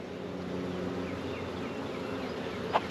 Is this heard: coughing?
no